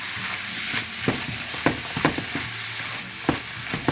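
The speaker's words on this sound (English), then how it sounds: "We just wanted to saute it up for a couple of minutes." Beef tenderloin sautéing in a pan, giving a continuous close sizzle broken by irregular sharp scrapes and clinks of stirring, with no talk.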